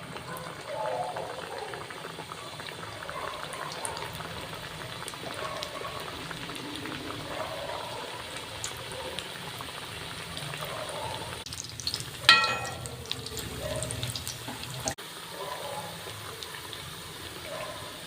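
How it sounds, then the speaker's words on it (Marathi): Khari pastries deep-frying in hot oil over a lowered gas flame, giving a steady low bubbling sizzle throughout, with a brief louder clatter midway, and a voice talking faintly in places. "तर आता आपण ह्या खारी अशा तळून घेऊया"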